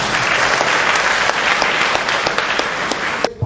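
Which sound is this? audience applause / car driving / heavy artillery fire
audience applause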